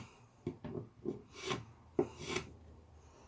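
Knife edge scraped repeatedly along an old wooden table, a series of faint, rhythmic rasping strokes about every half second, close up and quiet, with no voices.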